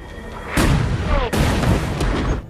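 A German submarine's guns fire in a naval battle scene, two heavy booming blasts with rumbling tails, loud and close, while a voice speaks underneath.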